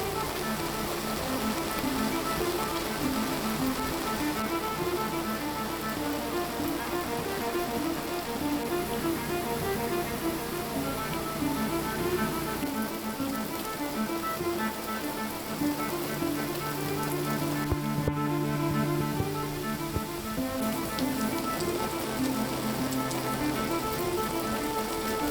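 Steady rain pours over abandoned jungle land, a dense, continuous patter of drops on surfaces and foliage, with no voices throughout.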